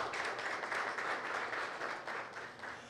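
Audience at a consumer defense commission session in Angra dos Reis giving a steady round of applause, dense clapping that holds for a few seconds and fades slightly toward the end.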